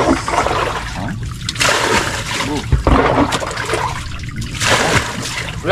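Water splashes and rushes in steadily amid a strong current, a loud continuous wash with surging bursts, while a voice briefly talks over it.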